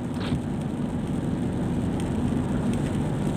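Rain from storm Noul falls on a car with the wipers set to the slowest speed. Steady, dense patter and hiss from inside the vehicle continue throughout, close and moderately loud.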